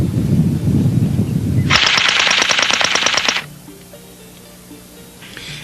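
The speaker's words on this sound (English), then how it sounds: "This device suppresses muzzle blasts so well that the mechanical noise of the weapon becomes" Suppressed automatic gunfire, a rapid burst of muffled shots lasting under two seconds with the weapon's mechanical clatter clearly audible, loud and close, followed by quieter ambient noise.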